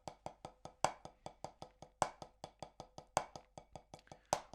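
A paradiddle rudiment played with drumsticks: crisp, close, evenly spaced strokes in a steady right-left-right-right, left-right-left-left pattern, with a regular louder accent recurring about once a second and no talking.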